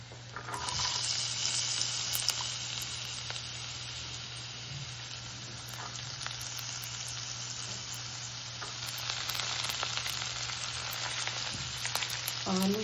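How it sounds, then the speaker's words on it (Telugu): Cashews sizzle and fry in hot oil in a pan while cooking a Telangana puffed-rice upma, a steady close crackling hiss with faint stirring, no voices. "ఇప్పుడు ఇందులో నేను కొంచెం కాజు వేస్తున్నానండి"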